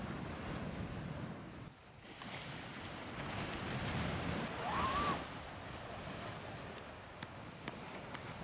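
Ocean waves breaking at a beach at dawn, a steady rolling wash of surf with gentle swells and some wind buffeting the microphone, no voices.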